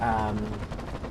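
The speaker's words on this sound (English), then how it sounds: "got an armoured car, I think it is, over there, just constantly firing on this guy" An armoured car in a tank video game fires constantly: a dense, continuous rattle of rapid gunfire with a low rumble beneath, loud and unbroken for a short burst.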